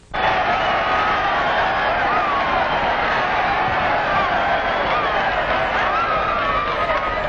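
A dense crowd at a ball game cheers and roars without a break, loud and constant, with a thin, narrow-band old-film quality.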